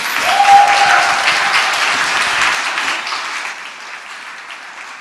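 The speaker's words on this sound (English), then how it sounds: "Yes, a round of applause." Applause from an audience at a design open forum event, steady broadband clapping that stays loud and fills the whole stretch, slowly thinning toward the end, with a brief high tone early on.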